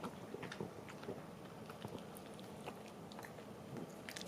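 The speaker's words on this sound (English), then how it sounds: "Now, since it has his food in there with some water, it's more soft and crunchy than real hard." A senior Cavalier King Charles Spaniel chews and bites through a frozen raw food puzzle softened with water, giving steady soft crunching and wet munching close by with no talk.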